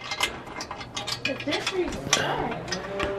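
Bolts are run in while headers go onto a car in a garage, giving quick metallic ratcheting clicks and tool rattles close by, with some voices in the background.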